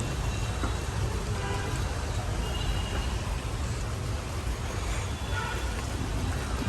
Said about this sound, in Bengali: মাত্র বৃষ্টিটা একটু কমছে